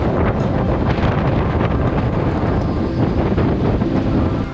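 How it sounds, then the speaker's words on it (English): Strong wind gusting around 40 knots roars continuously across a sailboat at sea, loud and buffeting the microphone, with rushing water beneath and no voices. "The wind picks up 40 knots in gusts."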